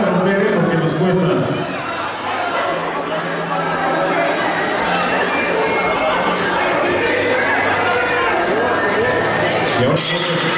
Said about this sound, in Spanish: chocen sus copas y por favor no las vayan a romper